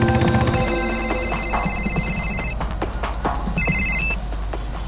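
A telephone rings in electronic tones, one long ringing burst followed by a shorter one, set against clattering background sounds.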